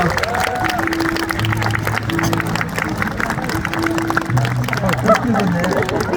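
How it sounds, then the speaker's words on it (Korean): Guests applaud at a wedding ceremony held at Hayes Garden, a dense, steady wash of clapping lasting several seconds with a faint musical tone and murmur mixed underneath. "큰 박수 부탁드립니다."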